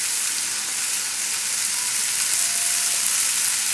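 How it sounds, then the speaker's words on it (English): Broccoli sautés over a high flame with a loud, constant sizzle and faint stirring, steady and close for the whole stretch, with no speech. "So on a high flame, just saute this."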